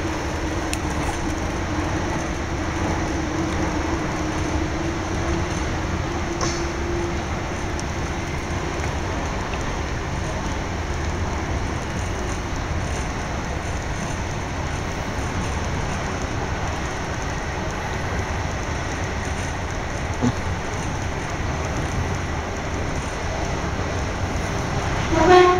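A British electric train passes through Three Bridges station, rumbling steadily nearby with a continuous low roar and rolling wheel noise, unchanging for a long stretch with no voices.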